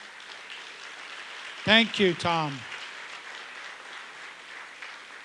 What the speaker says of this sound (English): One more round of applause for Tom.